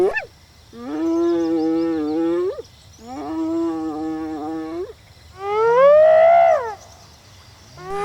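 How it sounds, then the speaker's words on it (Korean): Hyenas fight over an antelope carcass on the savanna. Three long, loud, drawn-out moaning calls come one after another, separated by short pauses, with no talk. "초원에는 찢어지고 떠싸우는 소리가 울려 퍼졌다."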